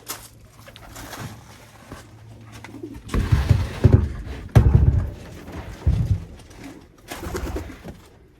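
White racing pigeons in a loft coo in low, throaty bursts close by, with soft fluttering and shuffling between calls and a quiet hum in the background.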